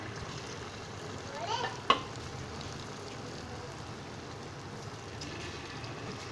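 Potato pakoras in gram flour batter sizzling in a kadai, a soft continuous frying hiss with a brief burst of stirring and a single sharp clink of a utensil against the pan.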